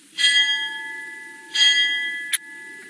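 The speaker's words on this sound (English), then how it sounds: "The bell invites me." A bell tolls, ringing two bright strikes about a second and a half apart, each leaving a long ringing decay, with a short sharp tap near the end.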